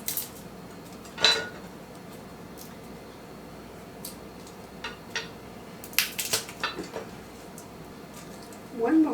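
Garlic cloves dropped into a glass canning jar packed with jalapeños, carrots and onions, giving a few scattered clinks and taps on glass that come unevenly over several seconds, with quieter kitchen handling between them.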